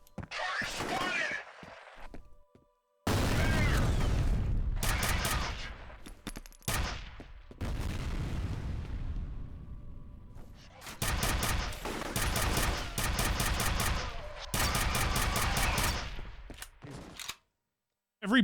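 Gunfire in the shooter game F.E.A.R., with loud bursts of rapid automatic fire broken by short pauses and some single shots, close and harsh, repeating over the whole stretch with brief silences between volleys.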